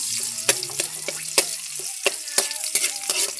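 Garlic and onion sauté in a hot pan, giving a steady sizzle broken by sharp scraping strokes as the spatula stirs the pan every second or so.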